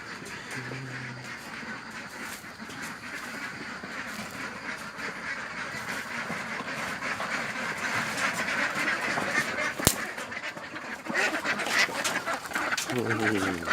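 Laying ducks quack repeatedly in the background, a busy flock calling steadily in a pen while someone talks over them.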